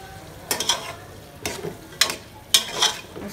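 Cut potatoes stirred into frying aloo methi in a pan, four or five sharp scraping, clinking stirs spaced across a soft background sizzle, with no voices.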